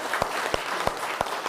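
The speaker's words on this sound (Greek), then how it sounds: "Ένα δυνατό χειροκρότημα στους χορευτές μας." An audience at a Christmas village celebration applauds the dancers, a steady wash of clapping with a few sharper claps standing out over the brief stretch.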